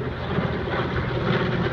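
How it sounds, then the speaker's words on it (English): World War II planes, an Avro Lancaster and a Spitfire, fly over a cornfield, their engines a steady, rumbling drone that holds at an even loudness throughout. "Some World War II planes coming over."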